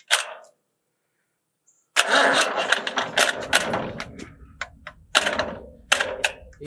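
An old farm tractor left on a fence row cranks and starts, a brief rattle, then silence, then a rough, sputtering, uneven engine catching with irregular bursts and clanks, close and loud.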